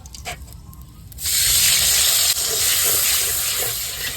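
Egg-battered fritters drop into hot oil, bursting into a loud, close hiss and crackle that holds steadily for about three seconds after a quiet start with faint background sounds.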